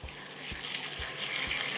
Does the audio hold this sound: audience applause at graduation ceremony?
no